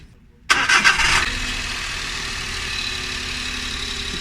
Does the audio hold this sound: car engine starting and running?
yes